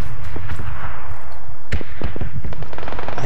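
Bursts of automatic gunfire ring out in PUBG, rapid sharp cracks in quick clusters over a continuous low battlefield rumble, moderately distant and loud.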